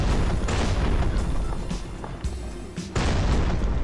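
A heavy earthquake-power rumble in the Rainbow Friends video game, a loud, sustained low boom with bursts and crashes rolling through the whole clip.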